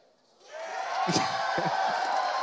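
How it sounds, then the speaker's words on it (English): Esports arena crowd at a CS:GO Pro League Finals semifinal in Dallas, swelling into loud sustained cheering with a sharp burst of whoops, people talking beneath the roar. "This is crowd interaction."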